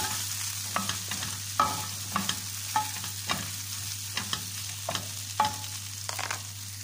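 Carrots stir-fried in a pan for a mixed vegetable dish, with a steady sizzle under regular scraping and stirring knocks about every half second, close and moderately loud, alone without talk.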